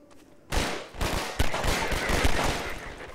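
Gunfire in Half-Life 2, a dense burst of rapid shots that kicks in abruptly after a quiet moment and keeps going loud and continuous, with a few sharper cracks standing out.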